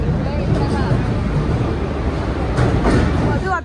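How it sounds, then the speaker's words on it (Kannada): A crowded passenger train arrives at a clean, well-kept station on the way to Mysore, a low, continuous rumble that swells slightly near the end while people talk over it. "ವಾವ್ ಟ್ರೈನ್ ಬರ್ತಾ ಇದೆ"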